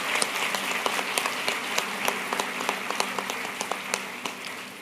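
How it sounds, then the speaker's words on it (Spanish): An audience at a church gathering claps for a guest from Guadalajara, Jalisco: a dense, steady round of applause with sharp individual claps, fading slightly at the end. "te damos un fuerte aplauso"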